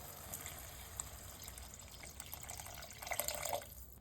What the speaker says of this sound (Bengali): এর মধ্যে আমি এবার জল দেব